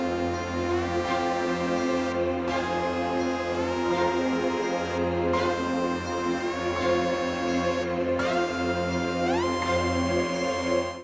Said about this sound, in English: That's what the melody sounded like without any effects on it.